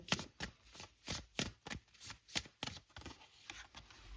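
Tarot cards shuffled by hand during an Aquarius reading, a brisk run of papery riffles and slaps in quick bursts, close and clear with no talk.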